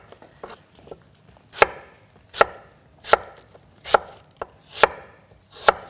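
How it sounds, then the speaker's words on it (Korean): A knife cutting fruit into flat slices on a cutting board, seven sharp, evenly spaced chops close by with light scraping between them. "그다음에 이제 먹기 편하게 이렇게 썰어주세요."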